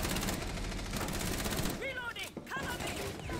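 A dense, steady rattle of gunfire from a Rainbow Six Siege round, with voices talking over the shots and chirpy game effects in the second half.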